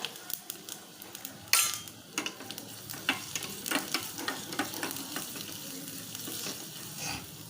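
Garlic and a pinch of asafoetida sizzle in hot oil as a phodni for Maharashtrian khandvi (gundalvadi), a steady crackling fry broken by sharp spits and clinks, close and fairly quiet, with no talk.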